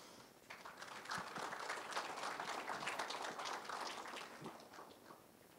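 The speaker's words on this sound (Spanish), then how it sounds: "Lo recibimos con fuertes palmas" Quiet, fairly distant applause from an audience at a geological society lecture, rising quickly and holding as a steady patter of clapping before easing slightly.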